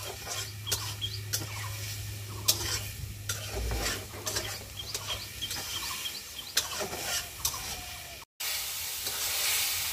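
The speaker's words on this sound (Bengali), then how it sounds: "ওই পাশে সজনে ডাঁটা আলু দিয়ে চচ্চড়ি রান্না করা হচ্ছে" Drumstick and potato chorchori cooks on a clay stove, a steady low frying sizzle with repeated clicks and scrapes of stirring, then a short dropout and a sharper burst of hiss at the end.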